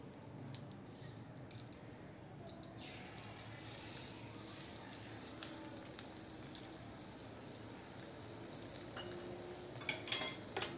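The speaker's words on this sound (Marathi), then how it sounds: "या तुपामध्ये छान आपण असं परतून घेऊया।" Broken wheat (daliya) is roasted in ghee in a pan, a soft, steady low sizzle with occasional stirring scrapes and a few clicks near the end.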